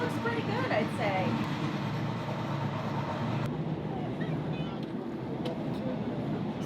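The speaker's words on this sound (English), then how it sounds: "it's so loud in between the trains" Loud, steady rumble and clatter of a moving overnight train in Egypt heard up close between carriages, with rattling and a constant low roar, plus a brief sharp clank midway.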